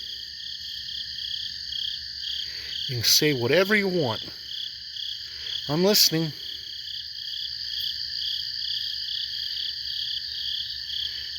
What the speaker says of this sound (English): Is there nothing but frogs here?